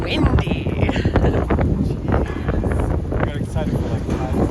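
Strong gusts buffet a cruise ship deck at Coco Cay, roaring loud and close into the microphone throughout, with a voice speaking briefly beneath the wind.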